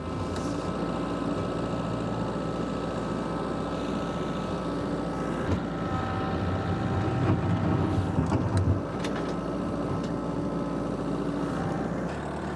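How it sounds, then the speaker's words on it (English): A Kubota LX3310 tractor's four-cylinder diesel engine idles and runs steadily nearby, a continuous low mechanical drone with a slight surge in the middle and no talking. "This is the only 4-cylinder engine we've got"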